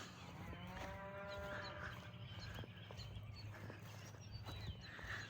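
Cows moo on a farm during a morning walk, a few drawn-out, tonal calls sounding at a moderate distance over a faint outdoor background.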